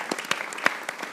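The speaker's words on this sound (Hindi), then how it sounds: "फ़खर जमान के लिए भी तालियां बजाना चाहता हूँ" A small studio audience on a cricket talk show claps for Pakistani cricketers, producing a brief patter of sparse, separate, fairly faint handclaps.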